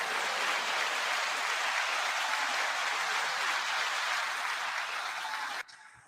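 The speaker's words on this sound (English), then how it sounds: "9-second applause." Sustained applause from a studio audience greeting Yonkers artist Jaewon, loud and dense for over five seconds, then cutting off abruptly near the end.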